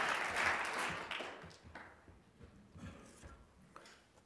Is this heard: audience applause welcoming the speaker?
yes